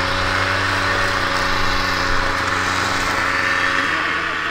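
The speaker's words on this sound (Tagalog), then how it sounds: "Grass cutter" A grass cutter engine runs steadily during roadside clearing work, a loud continuous buzzing drone with a constant pitch, close by and filling the whole stretch without pause.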